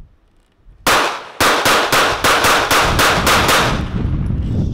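Loud gunshots at an outdoor shooting range ring out, with a single report followed after a pause by a rapid string of about eight more, each with a sharp crack and a short ringing tail.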